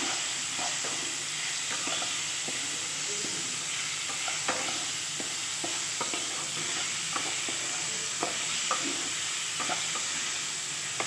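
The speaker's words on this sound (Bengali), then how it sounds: "যে লবণ আর হলুদ দিয়ে একটু নেড়ে চেড়ে নেব ভালো করে।" Mango pieces for chutney are stirred in a hot pan with salt and turmeric, a steady soft sizzle with scattered scraping clicks of the spoon, close and fairly quiet, with no talking.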